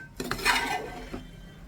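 Prawn biryani masala being sautéed in a pan, a spoon scraping and clanking against the metal in a short burst of stirring, close and fairly loud, then settling into a soft background hiss.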